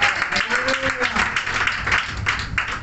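Loud congregational clapping at a Telugu church sermon, a dense, steady patter of many hands mixed with voices and a faint tonal murmur.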